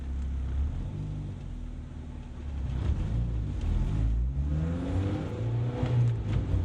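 A Honda Civic Type R accelerates hard in second gear, its engine note climbing steadily in pitch and loudness as the revs rise, heard from inside the car with no talking.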